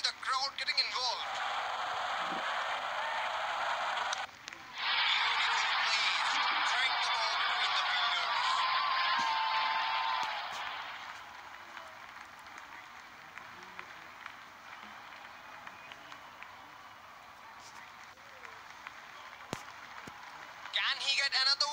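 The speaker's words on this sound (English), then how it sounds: "Good to see the crowd getting involved." A crowd at a World Cup final cricket match between England and New Zealand cheers and applauds in a loud broad roar for several seconds, then fades to a quieter murmur while a commentator talks.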